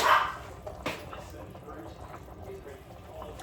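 A pet dog gives a couple of short, sharp barks indoors, the first right at the start and another just before the one-second mark, over a low household murmur.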